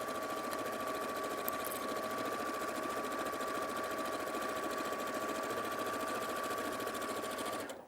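A sewing machine stitching fabric, its motor running with a fast, steady whirring chatter and a faint whine for about eight seconds before stopping, quiet and close, with no voices.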